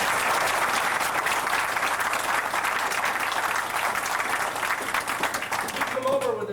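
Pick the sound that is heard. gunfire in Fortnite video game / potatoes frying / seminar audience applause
seminar audience applause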